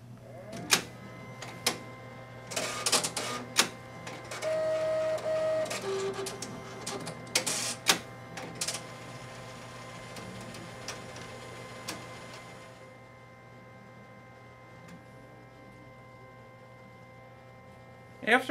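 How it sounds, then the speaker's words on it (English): A Viper DTG direct-to-garment printer powering up, with a steady low hum, a run of sharp clicks and ticks, a brief tonal beep partway through, and mechanical whirring that settles into a quieter idle hum. "now we're going to come to the control panel and power up the machine by pressing the power button."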